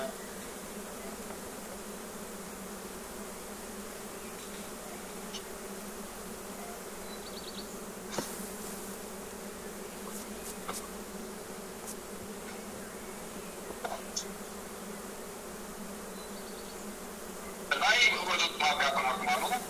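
Honeybees hum in a steady, fairly quiet drone as frames are shaken out of a beehive, with occasional knocks and clicks and a louder burst of buzzing near the end; voices speak intermittently.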